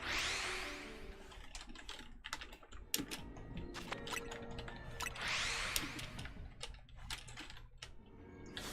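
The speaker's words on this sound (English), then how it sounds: "before I could type this one-handed" Computer keyboard clattering under fast, irregular typing, with bursts of close keystrokes broken by brief pauses.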